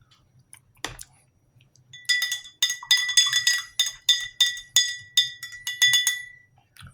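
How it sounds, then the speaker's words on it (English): A metal spoon stirring mint tea in a glass, about a dozen bright rhythmic clinks against the glass in quick succession after a single earlier tap, close and clear over a quiet background. "Stir my mint tea."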